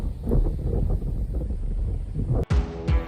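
Gusty wind on a cliff beside a lighthouse on the Magdalen Islands, buffeting the microphone in a loud, rumbling roar with a sharp dropout and renewed blasts near the end.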